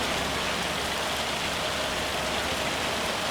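Video game rain on a farm, a steady, dense hiss of rainfall, even and unbroken throughout, like heavy rain on surfaces close by.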